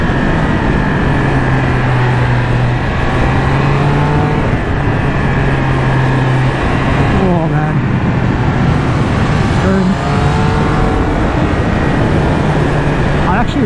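A Triumph Speed Triple 1200RS motorcycle engine revs hard at high RPM on a city road, loud and close, its pitch climbing and dropping through gear changes, with wind rush and someone talking over it.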